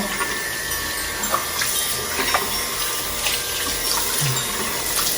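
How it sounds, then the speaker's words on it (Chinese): Tap water runs steadily into a bathroom washbasin as it is rinsed off after a homemade hand-care treatment, a continuous close splashing flow with small clinks and bumps on top, no talking. "所以把我们家的那个洗手台冲一下"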